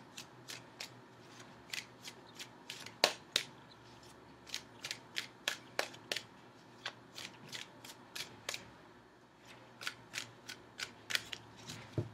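Tarot cards being shuffled for a relationship reading, a long run of crisp, snappy riffles and flicks in uneven bursts, close and fairly quiet, with no voices.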